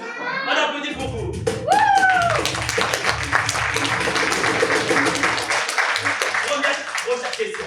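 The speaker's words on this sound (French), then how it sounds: "On applaudit pour vous." An audience, seemingly including children, claps at a live show in a dense, lively burst lasting several seconds, with voices and a high squeal mixed in near the start.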